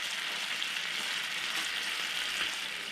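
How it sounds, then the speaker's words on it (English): Steady sizzling of burgers frying in a hot pan, a continuous crackling hiss with no talk. "Oh, that's sizzling nice"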